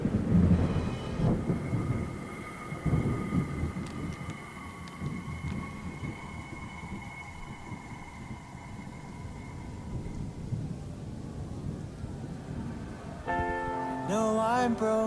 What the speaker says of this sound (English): But a storm is approaching,